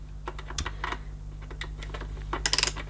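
A screwdriver's bit is swapped for a Phillips bit while servicing a Hoover S2095 Quick Broom II stick vacuum: small, close plastic and metal clicks and taps, scattered, ending in a quick rattling burst of ratchet-like clicks.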